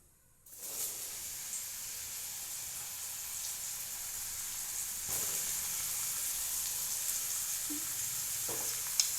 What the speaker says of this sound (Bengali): তেল গরম হয়ে গেছে, আমি এবার কড়াইতে মাশরুমটা দিয়ে দেব